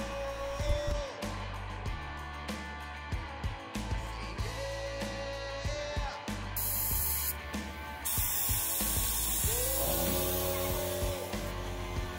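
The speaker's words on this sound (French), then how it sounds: "On passe ensuite la deuxième couche de la première peinture." A spray gun lays a second coat of car body paint, giving bursts of hissing spray broken by brief pauses and trigger clicks, with a low steady background hum and no speech.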